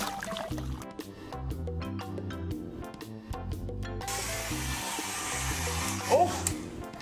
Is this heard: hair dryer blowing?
yes